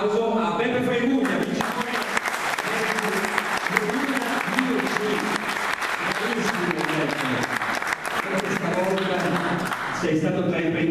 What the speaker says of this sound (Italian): un bel applauso a Beppe Fregugna.